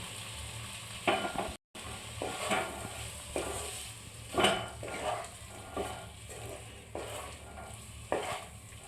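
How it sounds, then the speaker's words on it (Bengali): Pre-fried potatoes being stirred into masala in a hot pan, a continuous sizzle broken by repeated scraping strokes and light clinks of a spatula against the metal. "এটা ভালোভাবে ভেজে নিতে হবে একটু মিক্স করে নিতে হবে"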